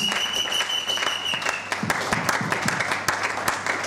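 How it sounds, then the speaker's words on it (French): A congregation at a church seminar breaks into applause, dense hand claps building into a steady rolling wash with a few sharper claps standing out nearby. "Acclamons très fort la parole de Dieu encore une fois de plus"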